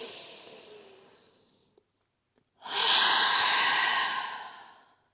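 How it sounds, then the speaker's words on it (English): A person takes a deep breath in through the nose, then after a short silence exhales audibly through the mouth in a long, close, breathy rush during a yoga session. "Take a deep breath in through your nose. Open up your mouth, exhale."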